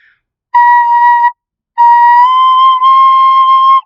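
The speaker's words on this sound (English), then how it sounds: "Nope, I took off that thumb hole just a little bit." Recorder played with the thumb hole slightly uncovered, two sustained whistle-like notes alone: a short steady tone, a pause, then a longer one that wavers and shifts pitch partway through.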